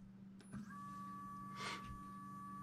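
An Anycubic resin printer's build plate homes downward, giving a very faint, steady motor whine with a soft click near the start and a brief swell partway through, all in a quiet room.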